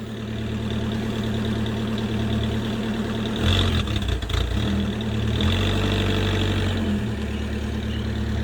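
A Gazelle kit car's engine idles steadily nearby with a low, even rumble, briefly roughening and surging for a couple of seconds before settling back.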